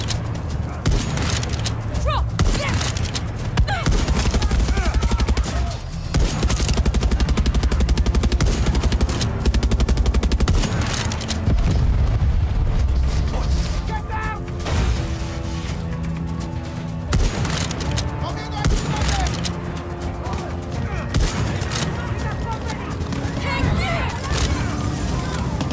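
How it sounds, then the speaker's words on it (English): Video game combat in a democracy-themed shooter, with dense bursts of gunfire and explosive booms piling up continuously, loud and chaotic, while players talk over the din. "Oh, there's more explosions."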